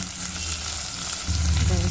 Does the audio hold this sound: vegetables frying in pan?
yes